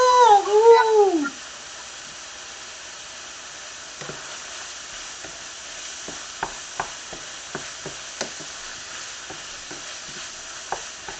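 Sausages frying in a pan while being stirred, a soft steady sizzle with sporadic clicks and scrapes of the utensil. An animal-like whine is heard briefly at the start.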